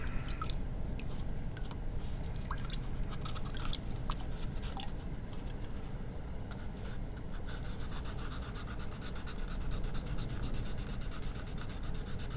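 A hand rubs a high gloss finish, making a steady, soft, close rubbing and scrubbing hiss with faint squeaky ticks, and no talk.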